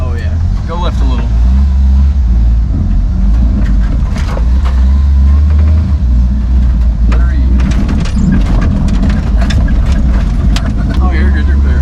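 A 4WD kei truck grinds along off-road with a steady loud engine drone and rumble, crunching and knocking from the terrain throughout, while people talk over it.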